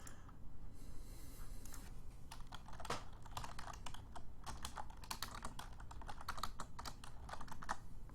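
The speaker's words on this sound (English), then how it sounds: "I'm having trouble typing." A computer keyboard is typed on steadily, with a dense, continuous patter of close key clicks running for several seconds at a fairly even pace and no speech.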